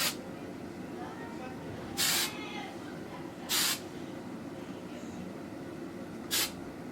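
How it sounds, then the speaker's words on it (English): Three short bursts of Tresemme hairspray from a small sample bottle, each a sharp hiss under a second long, spaced apart over a quiet background. "we're gonna take some hairspray. I'm just using, you know, this Tresemme small sample bottle"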